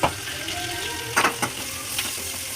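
Cumin and curry leaves crackling in hot oil, a close, loud sizzle with a few sharp spitting pops and brief stirring clatter.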